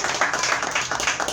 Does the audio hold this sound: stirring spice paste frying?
no